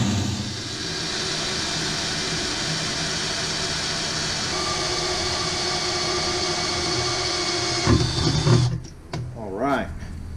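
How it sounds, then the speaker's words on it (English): A drill boring out a hole on a buggy during a Holley external fuel pump install, a steady broadband whine running continuously close by, then cutting off near the end with a brief clatter. "So I'm going to drill this out."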